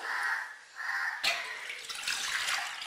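Water pours into a cooking pot while tomato rasam is being made, a steady hissing stream that pauses briefly, then splashes more brightly as it resumes, close and unaccompanied by voices.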